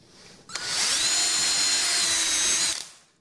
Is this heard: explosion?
no